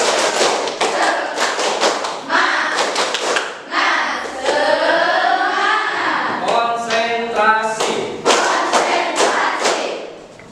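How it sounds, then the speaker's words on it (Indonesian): A classroom of standing students does a rhythmic spirit-clapping routine, with bursts of patterned claps alternating with group chanting and a teacher's voice. "Tepuk semangat"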